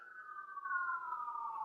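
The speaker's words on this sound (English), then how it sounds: "police sirens outside" A single steady police car siren tone that slowly drops in pitch, heard from a moderate distance outside for under two seconds, with no voices.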